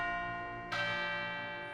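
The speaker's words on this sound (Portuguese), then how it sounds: "nem mesmo com as badaladas dos sinos" Church bells ring out over Lisbon, a single bright bell strike landing sharply about midway, its tone ringing on over a steady sustained hum of earlier chimes.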